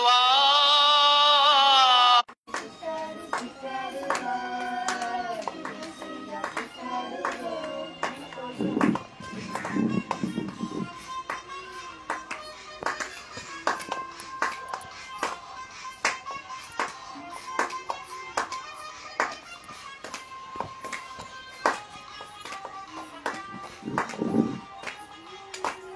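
A church congregation clapping along during worship, rhythmic handclaps under loud music and singing, after a brief loud tone at the start.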